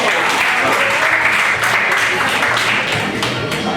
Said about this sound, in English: Give me a round of applause for the stars of tonight's show.